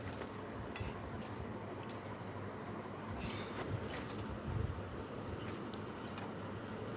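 Chicken curry sautéing in a pan with ground cumin and coriander, a faint continuous sizzle with occasional scraping and stirring clatters against the pan, quiet and close.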